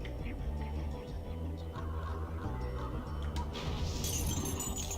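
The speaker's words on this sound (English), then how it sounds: "these Yetis sound like Sergeant Bird" Yeti calls in the Spyro video game Enter the Dragonfly, repeated low honking, goose-like hoots in a steady rhythm over game sounds, ending with a bright glassy chime.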